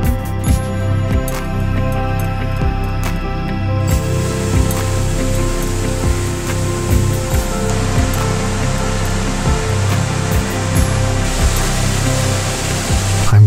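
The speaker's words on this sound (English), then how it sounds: "surrounded by waterfalls." Rushing water roars continuously like a waterfall, a loud, steady broadband hiss with a low rumbling undertone and no pauses.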